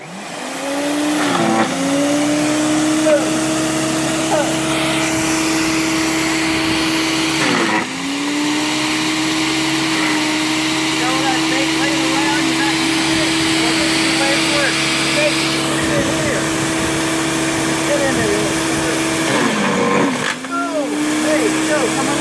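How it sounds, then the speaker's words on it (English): A Power Smart wood chipper roars steadily as it grinds frozen fish into chum, its engine droning close and loud with brief dips in pitch, while a person talks over it. "Go get yourself a Power Smart wood chipper."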